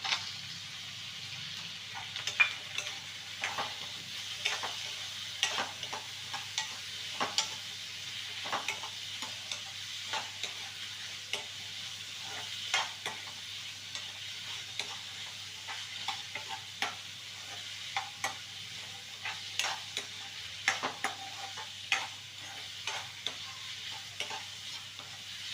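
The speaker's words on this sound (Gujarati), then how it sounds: "કંકોડા હવે નાખીએ." Spiny gourd (kantola) frying in a pan, a soft steady sizzle under frequent quick scraping strokes of a spoon stirring, close and moderately quiet, with no speech.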